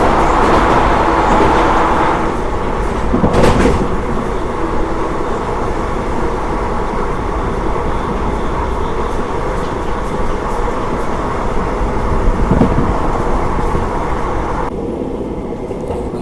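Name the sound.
Khandesh Express train running, heard from inside the carriage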